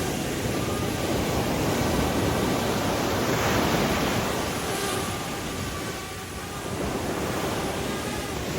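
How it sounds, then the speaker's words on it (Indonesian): Fairly large ocean waves roll in at Madasari beach in Pangandaran, producing a continuous, even wash of surf noise with no voices. "gelombang ombak yang terbilang cukup besar"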